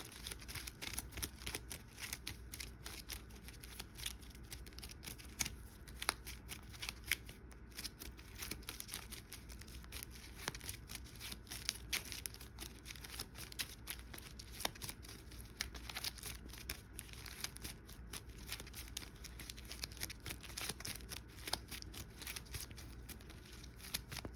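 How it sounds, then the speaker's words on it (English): Continuous soft riffling and shuffling of playing cards, steady and close, with no talking. "Let me shuffle up his cards."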